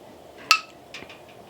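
A canning jar lid seals with a single sharp, bright metallic ping that rings out once, followed by a few faint clinks against a quiet background.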